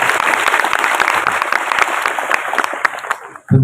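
High school students at a state senior high assembly in Bekasi burst into loud, dense clapping close by, sustained for about three seconds before cutting off abruptly as a voice begins.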